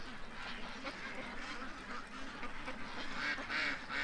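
A flock of geese honks and calls continuously at a distance, the overlapping calls forming a steady, noisy chorus.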